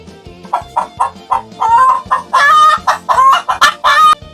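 Loud, close poultry calls in a rapid series of short, harmonic bursts with some longer squawks, sounding like a flock of fowl clucking and gobbling.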